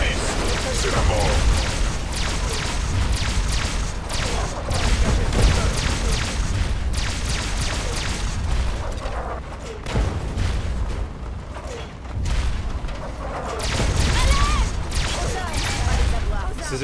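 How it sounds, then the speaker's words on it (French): Explosions in the video game Fallout 3, a steady run of loud booms, crashes and gunfire-like bursts with brief lulls, heard under ongoing talk. "Ces explosions de partout, ça fait chier."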